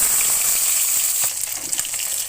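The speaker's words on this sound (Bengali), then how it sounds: "এখন আমি মাছগুলা দিয়ে দিব" Fish pieces dropped into hot oil in a wok sizzle with a steady, bright hiss, then crackle and spit more unevenly as the frying settles.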